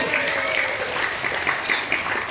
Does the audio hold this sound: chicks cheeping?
no